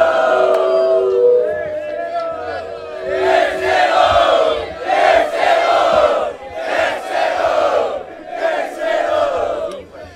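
A crowd at a Brazilian freestyle rap battle in Barueri, São Paulo, cheers and shouts in loud repeated surges. Whoops and chanting rise in several bursts and drown out the announcer's voice.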